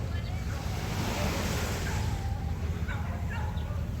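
Soft, steady surf washes onto the shore at Anawangin Cove in the early morning, with a constant hiss, faint and continuous, with a few distant bird calls.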